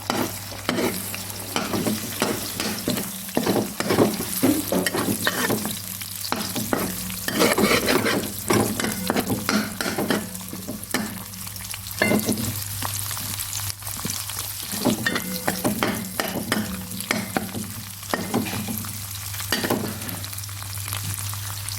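Eggs fry in a pan with garlic, crackling and sizzling steadily at close range while a spatula scrapes and stirs in repeated strokes throughout.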